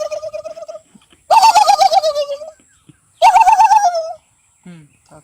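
A human voice mimics a turkey's call with two loud, warbling gobble-like bursts separated by a pause, close to the microphone, with faint softer sounds before and after.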